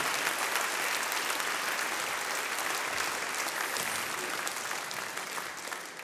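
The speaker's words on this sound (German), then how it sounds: "Riesigen Applaus für die beiden Männer" A crowd at a folk music gathering gives sustained, loud applause that stays thick and even throughout, easing off slightly near the end.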